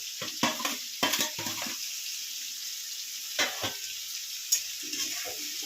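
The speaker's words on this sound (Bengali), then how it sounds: "ভাজা পনিরগুলো দিয়ে দেব।" Fried paneer pieces added to a spiced pan with cumin powder and salt, giving a few bursts of sizzling and spatula stirring between quieter pauses, close and moderately loud, no talking.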